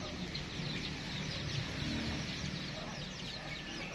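A hen clucking in a farm setting, soft repeated clucks close by over steady background noise, with faint voices in the background.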